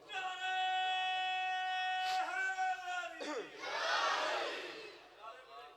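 A crowd at a Shia majlis bursts into a loud, brief collective shout of a religious slogan, rising abruptly after a sustained chanting voice and fading over a couple of seconds.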